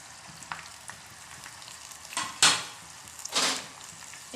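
Herbs and flowers, including Jatropha leaves, go into oil frying on a low flame for a hair-fall home remedy, giving a soft steady sizzle with a few sharp clinks and scrapes, close with no talk.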